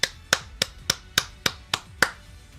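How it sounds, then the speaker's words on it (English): A single hand clap repeats eight times in a steady rhythm, each one a sharp, close, dry snap followed by a short decay. "And we get a hand clap for that one."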